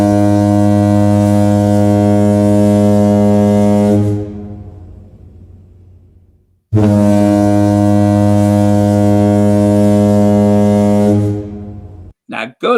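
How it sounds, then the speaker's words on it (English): Two long, deep, loud foghorn blasts sound alone, each held steady for about four seconds with a short gap between them, and a brief voice follows at the end. "Where's that foghorn?"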